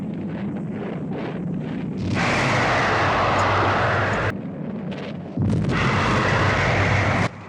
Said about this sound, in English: There's multiple explosions?